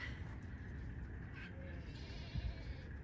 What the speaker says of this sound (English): They've got sheep